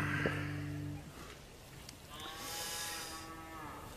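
A cow moos loudly and nearby in two long, drawn-out calls, with a brief pause between them and no talking.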